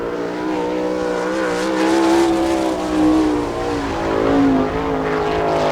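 An All Star Circuit of Champions sprint car runs a qualifying lap at Attica, Ohio, its engine a loud, steady drone that swells and fades as it circles the track, with no talk over it.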